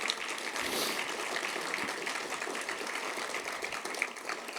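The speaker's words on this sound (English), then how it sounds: "please give a round of applause to the events team for all their hard work" Audience applause at an awards event, steady and moderately loud across the whole stretch with dense, even clapping and no talk over it.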